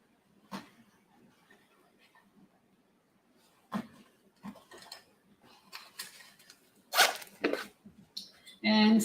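A zipper on a homemade crossbody bag is worked while a homemade zipper pull is fitted: scattered short zips and clicks, sparse at first and then quicker and louder near the end, with quiet handling noise between them.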